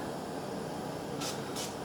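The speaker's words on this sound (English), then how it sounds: "I use Fry Light 1 calorie spray" Fry Light one-calorie cooking oil spray fires two short hissing bursts a fraction of a second apart against a faint steady background.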